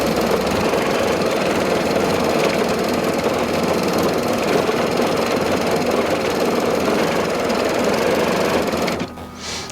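An embroidery machine stitches a quilt pattern with a loud, fast, steady mechanical chatter that runs without a break, then cuts off abruptly near the end.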